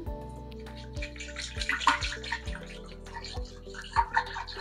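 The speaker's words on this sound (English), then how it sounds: "I'm going to take my milk, dump that in." Whole milk poured into an Instant Pot for homemade yogurt, a close, gurgling stream of liquid with no talk.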